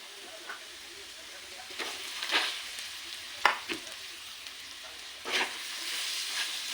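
Peanut chutney tipped into a pan of frying garlic, soft sizzling and hissing with a few sharp stirring scrapes and clatters, fairly quiet and close.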